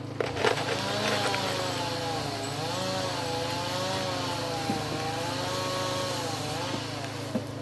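A power driver sinks deck planking screws into joists on an A-frame cabin deck, giving a loud, steady motor whine that runs unbroken and close throughout.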